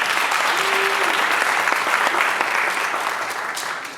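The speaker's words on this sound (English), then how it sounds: "let's give them a round of applause just for that" Audience applause at a reparations panel at the Schomburg Center, a full round of dense clapping that holds steady and gradually thins toward the end.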